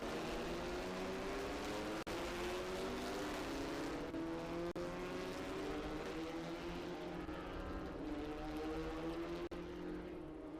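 Ligier junior formula race cars with non-turbo Honda Civic Type R 2.0 liter engines of about 160 horsepower, racing at Mid-Ohio, produce a loud, continuous engine roar whose pitch climbs steadily as the pack accelerates, with no talk.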